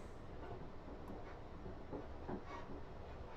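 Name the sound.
train slowing down approaching station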